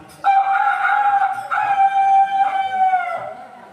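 A voice mimics a rooster crowing during a Maulid Nabi sermon by a dalang in Sukabumi, a loud, drawn-out, wavering call lasting about three seconds with a short break midway.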